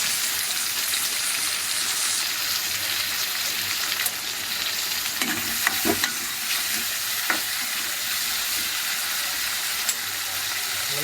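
Tomatoes sizzling and frying in a pan with oil and ginger while a spoon stirs them, a steady close hiss of cooking with scattered scraping stirs and clinks, no talking.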